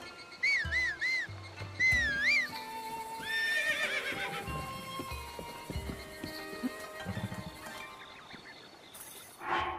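A horse in The Legend of Zelda: Breath of the Wild whinnies twice in clear, wavering neighs near the start, over the game's low hoofbeats and music, and a few fainter calls follow later.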